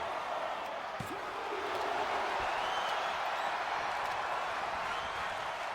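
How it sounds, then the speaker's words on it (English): Crowd at a live tag team wrestling show gives a broad, steady wash of cheering and applause, filling the hall without breaks, with a few thuds from the ring. "The crowd cheering for tag team wrestling."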